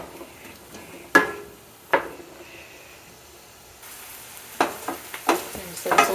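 Vegetables softening in butter in a pan over medium-high heat, a soft, close sizzle broken by a few sharp spoon scrapes and clicks as they are stirred, no talking.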